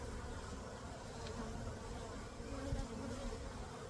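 A dense, continuous drone of many honey bees buzzing all around during a bee removal, steady and close with no pauses.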